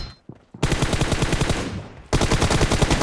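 Automatic gunfire in a shooting video game, loud rapid bursts close up, with a brief gap between two sustained strings of shots.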